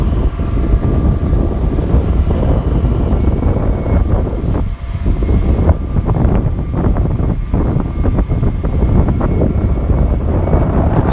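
Strong wind buffeting the microphone at a railway station in the rain, a loud continuous low roar with gusty surges throughout and no voices.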